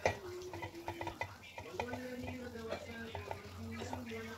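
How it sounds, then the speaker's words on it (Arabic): Finely chopped onion and garlic sauté in a pot, with a soft sizzle and repeated clicking scrapes of a spoon stirring in an uneven rhythm, close and quiet, with tonal hums in the background. "راح أضيفهم من القدر وأبقى أحمس بيهم إلى أن يتغير لون البصل"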